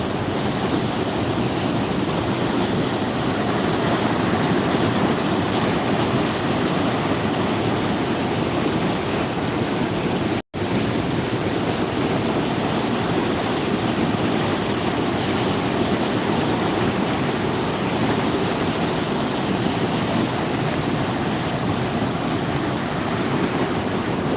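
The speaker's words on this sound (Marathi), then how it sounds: "पाणी वाढत चाललेलं आहे" The flooded Chandni river rushes after heavy rain, a loud, unbroken broadband roar of water with wind buffeting, steady for the whole stretch with only a momentary cut.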